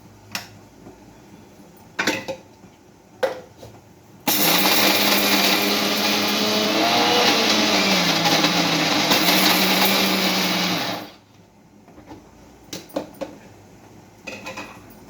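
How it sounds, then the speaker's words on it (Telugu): A mixer grinder whirs loudly for about seven seconds while grinding red chillies and tamarind, framed by a few clinks and knocks of the jar before and after. "ఇప్పుడు మిక్సీ వేసుకుందాం."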